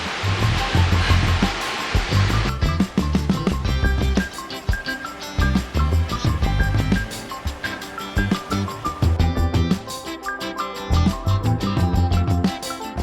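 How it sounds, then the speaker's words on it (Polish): Rushing water from a waterfall on the Four Falls Trail in the Brecon Beacons, a loud continuous roar close by, with irregular splashing and thuds over it and no talking. "Tutaj jest część drugiego wodospadu"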